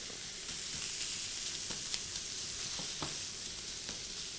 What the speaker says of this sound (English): fry the mince, hot pan, that's straight in